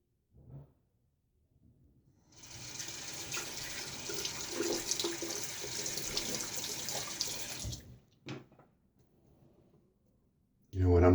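A tap runs steadily for several seconds during a wet shave with a 1936 Gillette Aristocrat safety razor, a broad rushing splash fairly close, with brief clicks and knocks before and after.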